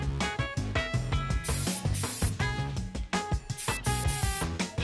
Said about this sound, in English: This is Aussie's Total Miracle Heat Protectant Spray with apricot and Australian macadamia